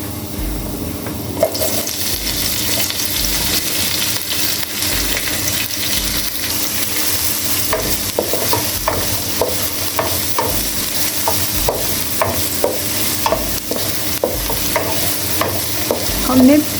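Onions and garlic fry in oil with a constant close sizzle, punctuated by rhythmic scraping stirs of a spoon against the pan. There is no speech.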